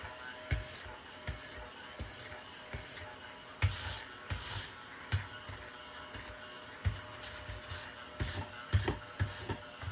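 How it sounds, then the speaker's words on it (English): A small handheld vacuum sucks up scratch-off ticket shavings close by, whirring steadily with repeated short bursts and rattles as debris is picked up. "little vacuum."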